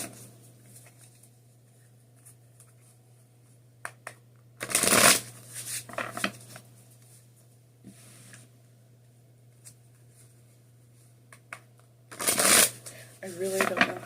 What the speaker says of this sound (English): I'm gonna shuffle 5 times.